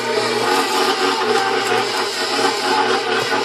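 An electric mixer churning cookie dough with walnuts, heard as a steady, loud motor whir at close range that runs without break and has no voices over it.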